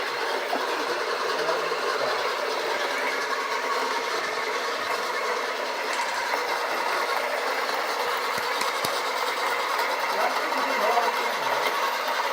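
Steady, dense whirring grind from an Acaia Orbit coffee grinder running at low RPM on Kenyan coffee beans, straining toward a stall, continuous and close throughout with no pauses.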